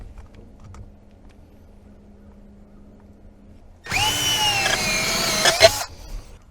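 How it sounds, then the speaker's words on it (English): A step drill bores through a pontoon boat floor, a loud, sustained whine with a rising pitch that runs for about two seconds before cutting off after quiet background. "Yeah, we'll try the step drill,"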